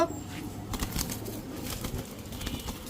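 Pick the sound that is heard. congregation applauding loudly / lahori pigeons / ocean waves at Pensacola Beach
lahori pigeons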